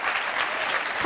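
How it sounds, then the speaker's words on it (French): An audience claps steadily throughout, a dense wash of applause from a crowd at a televised French show, fairly close and sustained with no break. "ça mérite vos applaudissements."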